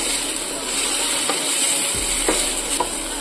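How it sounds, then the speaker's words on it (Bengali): Sliced tomato strips fry in a pan for an aloo gobhi cabbage curry, giving a steady close sizzle throughout with a few brief stirring scrapes and no talking. "টমেটো কুচিটা হালকা হালকা করে ভাজা হয়ে গেছে।"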